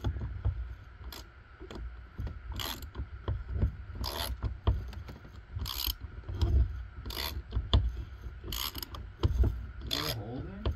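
A wrench turning a bolt on a Nissan 240sx in a garage gives repeated ratcheting clicks and metallic scraping in uneven bursts, close and moderately quiet.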